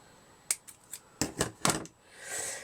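Scissors snip several times in quick succession through small bits of flower craft material, producing sharp close-up clicks with brief pauses between cuts, followed by a soft rustle of handled material.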